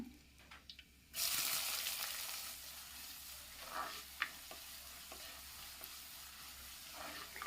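Onion, garlic, green chili and mustard hit hot coconut oil with a sudden loud sizzle that then hisses on steadily, stirred with occasional spoon taps, close and without speech.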